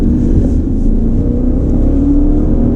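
A 595-horsepower Maserati Levante Trofeo runs a cool-down lap, its engine a steady, loud, low drone that holds level throughout with no speech.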